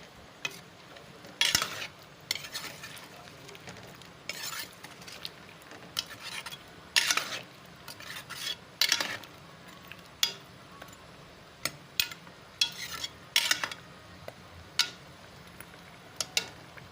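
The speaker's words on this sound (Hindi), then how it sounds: "अब इनकी अच्छी तरह भुनाई करूँगी" Spices such as fenugreek, garam masala and dried coriander being stir-roasted in a pan for aloo chicken, with a faint sizzle under intermittent sharp scrapes and clinks of a spoon against the pan.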